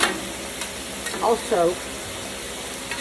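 Onions frying on a Blackstone griddle, a steady close sizzle with a spatula scrape near the start, and someone speaking briefly over it.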